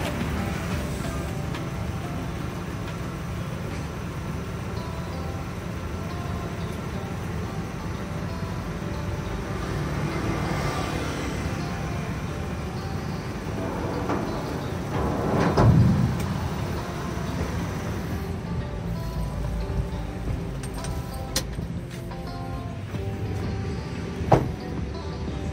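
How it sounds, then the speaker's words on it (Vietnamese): A Suzuki Pro dump truck bed being lowered, heard as a steady mechanical drone that swells briefly about midway and ends with a sharp, isolated knock. "chúng ta cùng hạ ben xuống"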